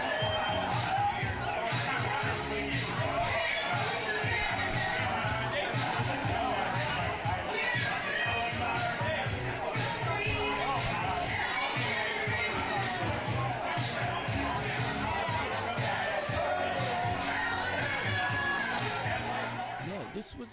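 Crowd chattering on a bar's outdoor patio, a dense continuous babble of many voices with occasional whoops and laughter, loud and steady throughout.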